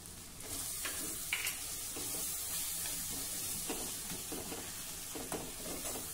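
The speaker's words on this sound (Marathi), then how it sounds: "आता हा टोमॅटो मऊ होईपर्यंत आपल्याला हे परतायचं आहे" Tomatoes with turmeric and red chili sauté in a pan with a constant quiet sizzle, broken by occasional scraping stirs of a spoon.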